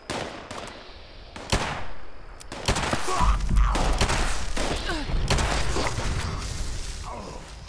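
Gunfire in the video game Fallout 76, a run of sharp, loud shots in irregular bursts with booming impacts, mixed with game effects while a player talks in the background.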